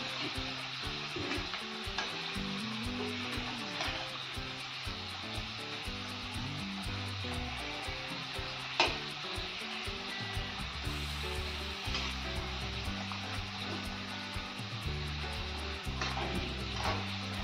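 Crisp Marathi fried modak sizzling steadily in hot oil, a dense continuous frying hiss close to the pan with occasional stirring scrapes and no talking.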